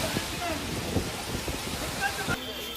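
Heavy rain falls during a storm in Bengaluru, a steady wash of noise fairly low in level, marked by a few brief knocks and thuds.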